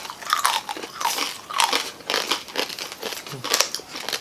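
Crisp, crackling bites into a mini lechon belly roll of crunchy roasted pork skin, several loud close-up crunches in a steady chewing rhythm with no talking.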